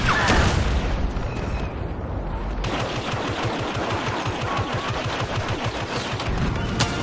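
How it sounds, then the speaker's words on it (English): Airstrike in Star Wars Battlefront: a sustained barrage of booming explosions and rapid gunfire rolls on continuously through a battlefield din, with rhythmic thuds pounding steadily in the background. "Airstrike incoming."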